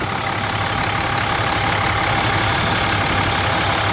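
A 2007 Dodge Ram 3500 with a modified Cummins 6.7 diesel, original turbo and factory airbox idles steadily, a close, even, loud rumble with no breaks.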